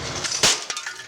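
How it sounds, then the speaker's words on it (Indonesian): A motorcycle license plate struck once in a sharp, bright crack over steady background noise, followed by a few fainter knocks. "Ya, malah plat nomor yang dipukul."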